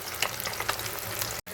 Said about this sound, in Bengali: প্রথমে আমি পমফ্রেট মাছটা ভেজে নিলাম।